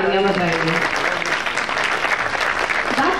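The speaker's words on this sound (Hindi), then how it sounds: "तो एक बार अपने गुरुजनों के लिए जोरदार तालियां बजाइए।" Loud, steady applause from an audience at a school career-guidance event, honoring the teachers, with a voice briefly heard at the start over the clapping.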